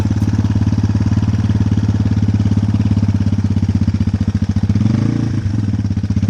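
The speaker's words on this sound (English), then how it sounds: "Give it just a little bit of gas and ease it out." A motorcycle engine, close and loud, runs with a steady rhythmic thrum as the rider gives a little gas and eases out the clutch, the note rising slightly near the end.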